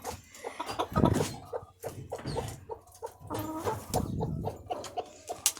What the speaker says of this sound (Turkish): Evet tavukları göstermeseydim olmazdı.